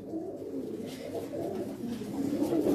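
Breeder pigeons coo in a low, continuous warbling murmur, several birds overlapping close by with no pauses across the stretch.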